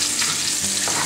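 Veal liver frying in hot oil in a Black Rock pan, a loud, close, continuous sizzle with a crackling spatter and no voices.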